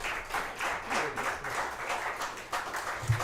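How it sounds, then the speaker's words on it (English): Applause from a small audience at a bluegrass band performance, a short, moderate burst of clapping that holds steady and stays fairly soft, without talk over it. "Give these guys another round of applause."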